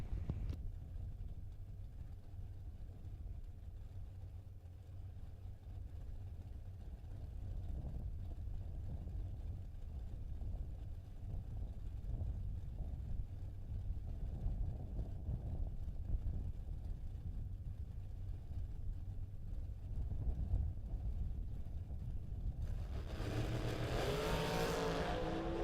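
A Race Tech dragster racing down a drag strip at a Saturday bracket event, a steady distant engine roar building toward a louder, close pass near the end, with wind noise and no talk.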